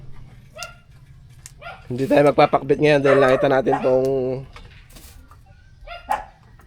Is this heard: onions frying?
no